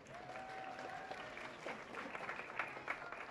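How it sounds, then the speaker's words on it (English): An audience at the North Carolina Museum of Natural Sciences claps its hands, a soft, fairly distant patter of applause with a faint tone at the start and a few louder claps near the end. "Clap your hands if you like dinosaurs."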